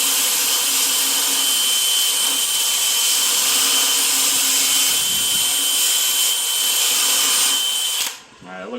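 A power drill with a wire brush grinds steadily against the metal deck of a commercial mower, scouring off dirt and paint in one loud, continuous whir that cuts out abruptly near the end.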